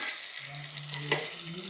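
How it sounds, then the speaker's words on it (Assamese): Ginger-garlic paste sizzles with onions in a hot pan, a steady close hiss of frying that carries on without pause. "এতিয়া মই দি দিছোঁ আদা নহৰু পেষ্টখিনি। এইখিনিও অলপ টাইম ভাজিম কেঁচা গোন্ধখিনি যোৱালৈকে"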